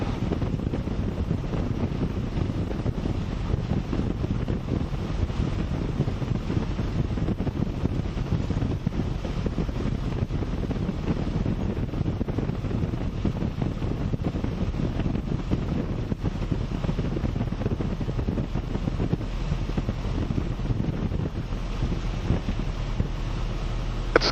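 Steady crosswind roars and buffets without a break during flight from Panama City, Florida, to Eufaula, Alabama, a constant broad rush with no voices.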